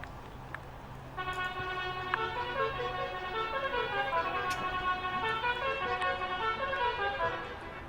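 Air horns blaring a tune at the Brands Hatch race circuit in November, a sustained tonal multi-note blast that starts after a second and keeps repeating in a steady rhythm, loud and fairly near over outdoor crowd noise.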